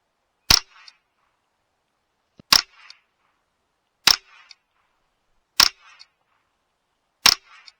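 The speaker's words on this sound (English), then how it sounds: "CZ457 with a suppressor, TX22 with a suppressor, and we're going to put them through some gel" Five suppressed .22LR shots from a CZ457 rifle and a TX22 pistol fired into ballistic gel: sharp, clipped cracks spaced about 1.5 seconds apart, each followed by a faint short tail, with near silence between.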